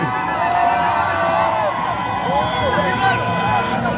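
Marchers in Gondar at a public rally ululating as they pass, wavering high trills rising and falling over a loud, continuous crowd din close by.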